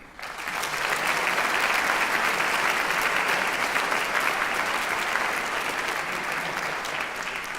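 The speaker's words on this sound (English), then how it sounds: "Can we just give you a round of applause?" An audience at The Big Sing 2017 opening ceremony in New Zealand breaks into sustained applause, a dense wash of clapping that rises quickly and holds strong for about seven seconds before easing slightly.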